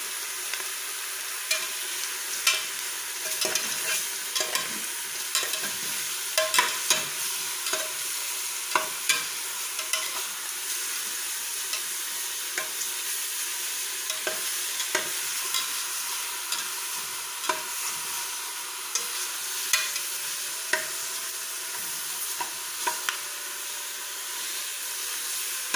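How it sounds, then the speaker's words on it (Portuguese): Pork cracklings (torresmo) stirred as they fry in a pressure cooker, a steady loud sizzle with scattered spoon scrapes and pops over about twenty-five seconds, no voices. "Agora eu vou estar dando uma mexidinha."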